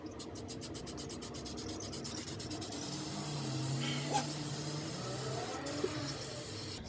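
Spray gun laying a super light first coat of metallic gold paint onto a custom Strat-style guitar body, a soft steady hiss with faint rubbing texture, fairly quiet and continuous, with no talking.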